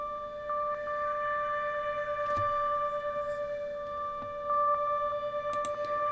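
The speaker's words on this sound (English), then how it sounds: "Which is just a basic synth, which has like a little rhythmic thing." A basic Omnisphere synth patch plays sustained tones with a little rhythmic blip pulsing through them, quiet and alone without any talk.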